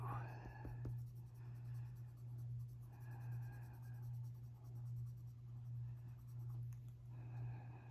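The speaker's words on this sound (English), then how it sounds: "I'm holding my pencil way back on the end of the pencil" A colored pencil scratches steadily across drafting film while a leopard drawing is shaded, the soft, quiet strokes running continuously over a constant low hum.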